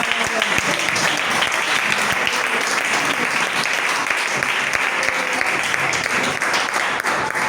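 A church congregation at a Methodist harvest-launch worship service applauds together, producing dense, steady clapping that fills the room throughout without letting up.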